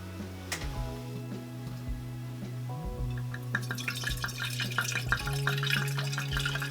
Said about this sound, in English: When you decant young, bold reds, pour the wine quickly.